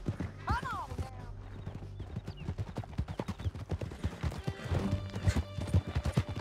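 Horse hooves gallop in steady, rapid clip-clop in Red Dead Redemption 2, with a whinny near the start and scattered gunshots, while someone talks over the ride.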